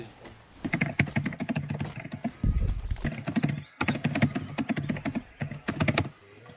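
Fast, clattering computer keyboard typing, near and loud, in dense bursts of key strikes with a couple of brief pauses and a dull thump midway.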